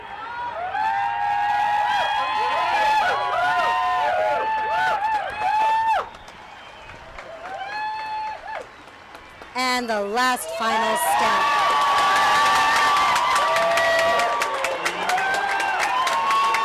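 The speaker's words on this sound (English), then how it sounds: "And the crowd is going nuts." A large crowd cheers, whoops and applauds as Nik Wallenda completes a tightrope walk, a loud, sustained roar of voices and clapping that briefly dips before swelling again, with a commentator talking over it.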